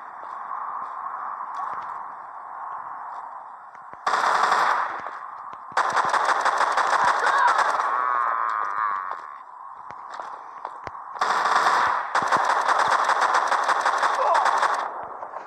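Rapid automatic gunfire from the zombie shooter game The Walking Zombie 2, coming in two loud, dense bursts separated by quieter stretches under a constant droning game soundtrack.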